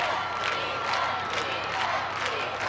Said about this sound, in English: Wildcat crowd calling defense.